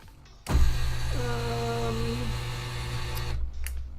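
A sewing machine running with no thread, a steady electric motor whir that starts abruptly, holds for about three seconds with a brief rising whine, then stops.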